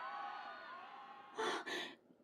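Crowd cheering sound effect in a children's story set at an ice rink competition, a short loud roar of voices in two quick bursts after a sustained tonal hum.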